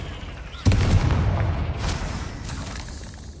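A Confringo blasting spell goes off in Hogwarts Legacy: one sharp, loud explosive boom that rolls into a rumbling tail, with a few softer bursts trailing behind.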